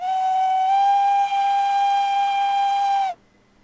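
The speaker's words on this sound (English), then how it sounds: "Enjoying some of those audio cues. Let's see, we got our whistle," A steam locomotive whistle from the S&DJR 7F 2-8-0 in Train Simulator Classic blows one long, loud, steady chime for about three seconds, then cuts off abruptly, leaving only a faint background hum.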